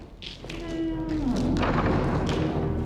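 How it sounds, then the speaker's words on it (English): A heavy door in a castle hall thuds shut with a muffled, fairly loud impact and a low rumbling tail, while a voice speaks faintly around it. "And close the door behind you."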